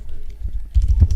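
A quick, soft burst of keystrokes on a computer keyboard as a network configuration command is typed, over a low background murmur.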